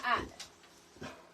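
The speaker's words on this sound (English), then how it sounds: "No, we're not going to bark in here." A dog gives a couple of short, yipping barks indoors, heard fairly faintly in a quiet room, with a brief gap between the sounds.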